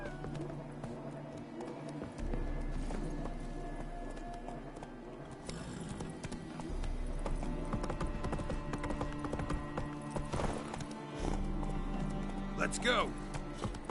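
Horse hooves clip-clop in a steady galloping rhythm in The Witcher video game, carrying on through most of the stretch, with someone speaking briefly over the game sounds.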